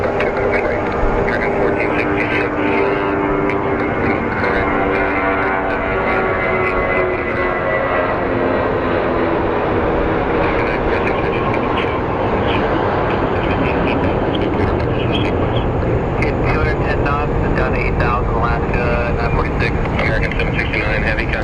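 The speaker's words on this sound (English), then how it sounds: "a lot of the planes are pushing out for their morning departures" Airplanes at Phoenix Sky Harbor International Airport during morning departures, a loud continuous roar of aircraft engines that stays strong throughout, with a person talking over it.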